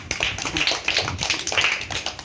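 Children in a classroom clapping for a classmate, a short burst of quick, fairly close hand claps with little talk.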